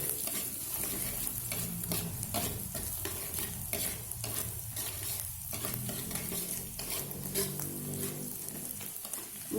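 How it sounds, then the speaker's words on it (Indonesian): Garlic sizzles steadily in hot oil in a pan while being stirred for fried vermicelli, with soft repeated scraping strokes and light clinks over the continuous frying hiss, close and moderately quiet. "kemudian kita goreng bawang putihnya"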